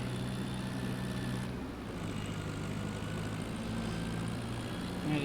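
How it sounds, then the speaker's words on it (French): A tractor engine in Farming Simulator 25 drones steadily at low pitch, a continuous near rumble that shifts slightly in tone partway through, with no talking. "Je vais avancer le tracteur là-bas et puis ça sera bon."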